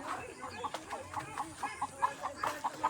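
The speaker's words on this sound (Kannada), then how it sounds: "ಕಡಕ್ನಾಥ್ ಕೋಳಿಗಳಿದೆ" Kadaknath chickens on a small farm cluck in a steady run of short, evenly spaced calls, moderately close and fairly quiet, with a soft murmur of farmyard background underneath.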